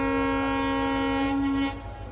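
A train sounds a long, loud, steady horn as it passes close by at a small railway station in Gujarat, the rumble continuing after the horn cuts off.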